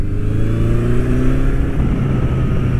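Honda CB1100 air-cooled 1100cc four-cylinder motorcycle engine pulling steadily under load, a loud, close, smooth drone with rising harmonic tones as revs climb, no voices.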